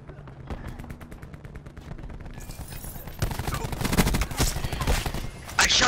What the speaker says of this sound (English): I shot this guy with my pistol